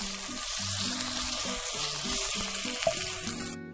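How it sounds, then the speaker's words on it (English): Onions sizzle in hot oil in a 12-inch pan, a steady light frying hiss close by with small pops and a faint stir near the end. "That's what you want to hear, that light sizzling."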